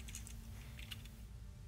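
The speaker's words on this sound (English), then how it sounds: "Are you typing in chat?" A few quick, soft keyboard clicks from typing on a computer during a Valorant match, faint and close over a steady low background hum.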